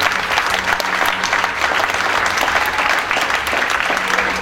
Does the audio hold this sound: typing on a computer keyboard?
no